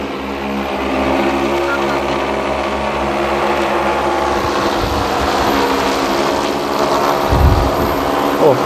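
Agricultural spraying drone flying forward over open desert farmland, a steady loud rotor drone with a low rumbling swell near the end, while people talk nearby.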